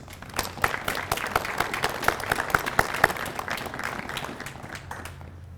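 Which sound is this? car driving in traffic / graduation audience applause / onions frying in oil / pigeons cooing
graduation audience applause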